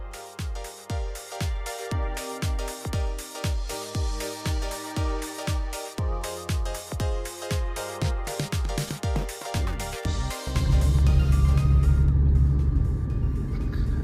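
A Ford Mustang on a long road trip gives a run of regular deep thumps at an even beat. About ten seconds in, these give way to a louder, steady, broad roar.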